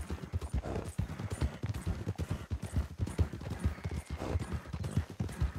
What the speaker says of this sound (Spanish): Hay que domar al caballo, claro.